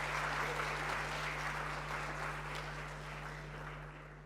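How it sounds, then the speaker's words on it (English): Conference audience applauds after a panel discussion on payments, sustained dense clapping in a large room that fades slightly toward the end, accompanied by a constant low electrical hum. "Let's have a louder round of applause for that discussion."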